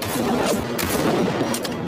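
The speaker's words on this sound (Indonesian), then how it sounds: "Ia tahu jika setiap tembakan Mei dari waktu ke waktu akan semakin melambat." Gunfire from a sniper's rifle: several shots blend into a dense, continuous roar of bursts and booms, loud and close, with no talking.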